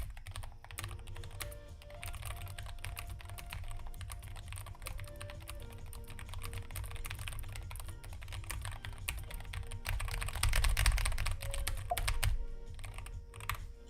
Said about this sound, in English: Can you do a sound check on the keyboard?